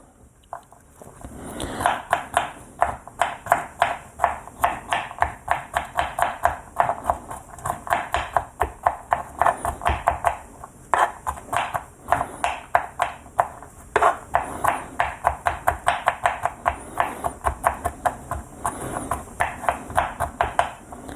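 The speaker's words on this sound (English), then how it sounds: "Getting the cloves peeled and chopping them up real good." Quick, rhythmic knife chops through garlic cloves on a cutting board, close and crisp, running in bursts with short pauses between runs.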